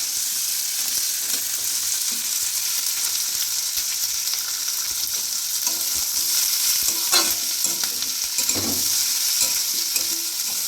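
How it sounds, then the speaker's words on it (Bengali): Capsicum and spices fry in a pan for chilli chicken, a steady bright sizzle running throughout with occasional stirring scrapes and clinks, close and fairly loud. "এবার ক্যাপসিকামগুলো দিয়ে সমস্ত মশলাগুলো হালকা করে ভেজে নেব।"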